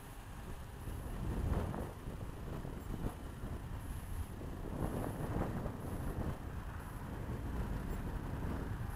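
Steady outdoor wind gusting across the microphone during kite flying, a continuous broadband rush with low rumble that swells in places, loud and close throughout with no talk.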